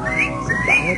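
A person whistles in imitation of a catcall aimed at passing women: two rising, sliding tones, loud and close, with nothing else heard.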